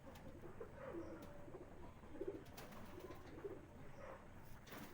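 Madrasi pigeons coo softly in a loft, several low, rolling coos repeating at intervals over a quiet background hum, fairly faint and without any talk.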